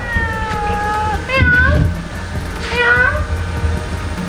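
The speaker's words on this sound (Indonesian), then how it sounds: "Kita menemukan kucing guys." A cat found outdoors meows twice in quick succession, each a rising-then-falling call, over a steady rumbling background with people talking nearby.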